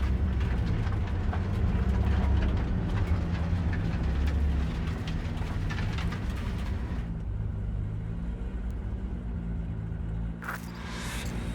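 A heavy train in the video game Cyberpunk 2077, a deep, continuous rumble and clatter that stays loud, then eases slightly, with a brief hiss near the end.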